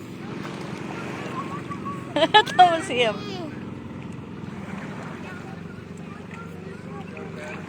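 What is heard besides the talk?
boat at sea near the beach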